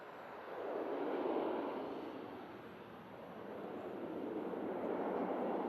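An aircraft at Manchester Airport, a broad steady roar that swells and eases slightly over several seconds, heard from a distance with no voices.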